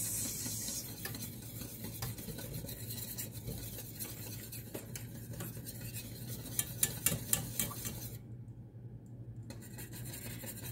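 Apple pie mixture for a Honeycrisp apple pie being whisked in a bowl: quiet, continuous scraping strokes with a brief run of louder metallic clinks partway through, then a short lull, no voices.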